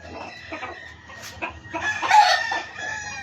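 A rooster crows loudly and close, the call swelling to a strong peak midway, with clucking hens and farmyard fowl around it.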